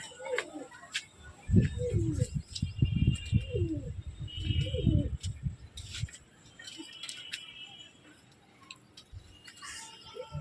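Madras pigeons kept for sale at a home coo softly in the background while someone talks nearby, followed by a quieter stretch of faint calls and small rustles.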